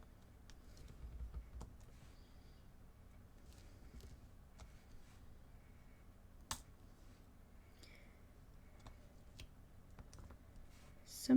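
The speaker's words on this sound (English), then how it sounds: "you can hear them all clicking together" Small plastic diamond painting drills click together in scattered, faint, light taps at close range, with quiet rustling in between and no talking.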